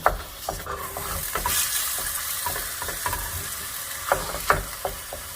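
A spatula breaks apart lean meat frying in a pan, with scraping taps and knocks over a constant close sizzle.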